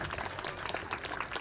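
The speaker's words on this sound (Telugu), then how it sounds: "మీ కరతాళ ధ్వనులతోటి మా లవ్ కుమార్ గౌడ్ అందరికీ గట్టిగా చప్పట్లు కొట్టాలని" An audience bursts into warm applause for Love Kumar Goud at Kreedotsav 2025, a school sports festival, with dense, steady clapping that fills the hall from start to finish.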